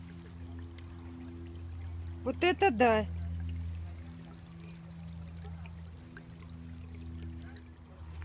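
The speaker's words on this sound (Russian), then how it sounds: "у нас река бурлит" A river swollen by a short rain shower rushes in a constant broad wash with low rumbling, heard steadily throughout while a person briefly exclaims over it.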